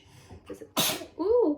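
A woman doing makeup lets out a single sharp sneeze, close and loud, between bits of her own speech.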